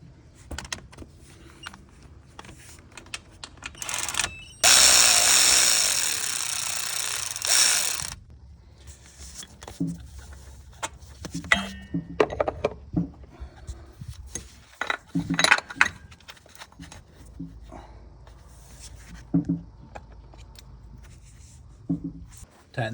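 A hand ratchet clicks in short bursts while tightening idler pulley bolts on a 6.2L V8 Ford Raptor, close and fairly loud, with a longer loud whirring burst near the start and scattered shop noise.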